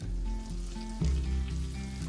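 Three rashers of streaky bacon fry in 30 grams of melted butter, giving a steady close sizzle with a brief louder burst midway as the bacon hits the pan.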